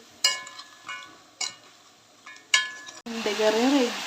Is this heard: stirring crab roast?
yes